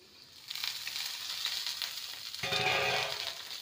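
Chopped capsicum goes into a pan of frying potato and carrot, raising a soft sizzle that grows louder and denser partway through and keeps crackling steadily with no voices.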